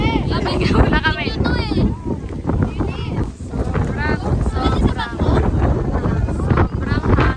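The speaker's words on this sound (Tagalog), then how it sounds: "Sobrang hangin." Strong wind buffets the microphone in a continuous, loud roar throughout, with people talking over it nearly the whole time.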